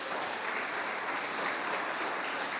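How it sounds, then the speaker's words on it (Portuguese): Steady applause from children in a church, dense and even throughout, with no voices over it. "E os aplausos das crianças?"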